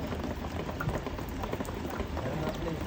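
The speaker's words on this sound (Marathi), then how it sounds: "पाऊस चालूच आहे अजून." Heavy rain pours down in a village, a dense, steady hiss of drops hitting the ground and standing water, loud and close throughout with no break.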